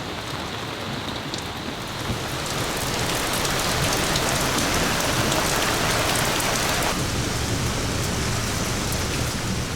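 Heavy rain pours down steadily at a sea cave where fishermen shelter, a loud dense hiss of a sudden downpour that continues without a break and has no voices over it.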